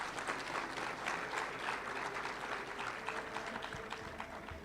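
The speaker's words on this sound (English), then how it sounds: "Can we give ourselves a round of applause?" Audience at a summit applauds after a declaration is signed, steady broadband clapping from a crowd continuing throughout at moderate distance.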